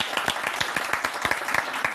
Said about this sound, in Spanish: vamos a darle nosotros un aplauso a toda esta clase hermosa que tenemos atrás